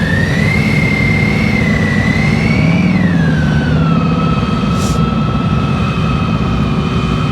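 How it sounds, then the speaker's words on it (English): A motorcycle engine holds a steady drone during slow-speed riding practice, with a continuous hum that dips slightly in pitch midway and then stays even. "You hear his engine? Pretty much steady."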